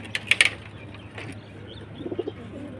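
Pigeons flapping their wings in a quick burst, then giving a few soft low coos, faint against a quiet background hum.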